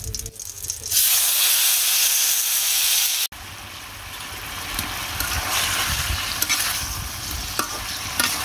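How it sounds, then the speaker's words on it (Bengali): Marinated meat hits a hot pan in a Bengali home kitchen with a sudden loud, sustained sizzle and hiss, stirred continuously, with a brief break partway before the frying noise resumes steadily. "মাখাটা হয়ে গেছে এখন মাংসটা দিয়ে নেবো"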